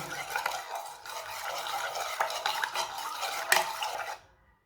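A spoon stirring baking powder into batter in a bowl, with close, repeated scraping and clinking strokes that stop abruptly before a short quiet end.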